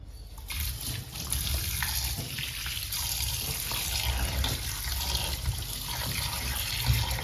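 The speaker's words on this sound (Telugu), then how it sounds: "చేప ముక్కల్ని శుభ్రంగా కడిగానండి నాలుగైదు సార్లు" Fish pieces rinsed under a running kitchen tap, a continuous close splashing and trickling of water with no pauses.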